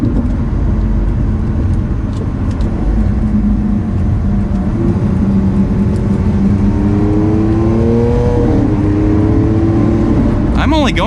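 A Lamborghini Aventador LP700-4 V12 engine pulls hard from inside the car, a loud continuous roar whose pitch climbs as it accelerates toward about 5,000 RPM, with another rising rev burst at the end.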